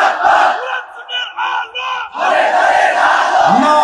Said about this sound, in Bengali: এখন একটা স্লোগান দেন